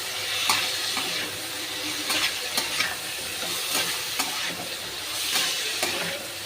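Pabda fish with kalo jeera and green chilli sizzles steadily in a pan, close and continuous, with sharp periodic scrapes of a spatula stirring it.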